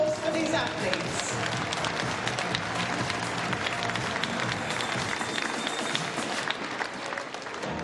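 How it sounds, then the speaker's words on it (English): An arena crowd applauds the divers at the men's 3 m springboard final of the 2018 European Championships in Glasgow, a steady wash of clapping that continues while a commentator talks over it. "another round of applause for these athletes"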